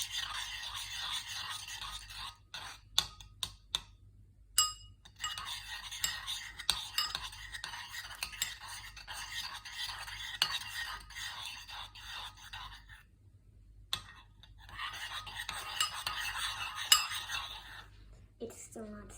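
Glitter slime being stirred and squished in a bowl, with soft wet clicks, scrapes and sticky smacks coming in two long bursts around a quiet pause, close and fairly quiet, with a faint whisper in the background.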